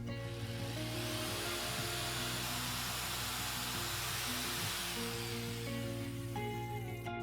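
A power tool whines steadily while cutting the wooden top for a guitar body, a continuous droning buzz with harmonic tones that dip briefly twice as the cut progresses, close and sustained without speech.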